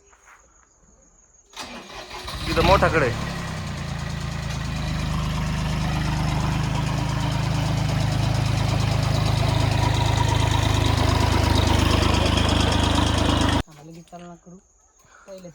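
A tractor engine turns over and catches, then settles into a steady, loud idle near by on a coconut farm, with brief talk before the start and after it cuts off.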